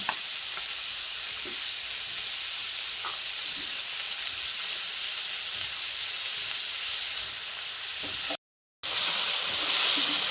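Oil sizzles and crackles steadily in a pan as a tomato tempering for handi paneer fries for the whole stretch, with brief clicks, a moment of silence near the end, then louder sizzling.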